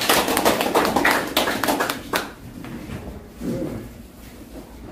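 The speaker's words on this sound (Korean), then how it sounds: "큰 박수 보내주시기 바랍니다." An audience at a lecture hall gives a short, dense burst of hand clapping for an invited economics professor, loud at first, then thinning out and stopping after about two seconds, leaving quiet room noise.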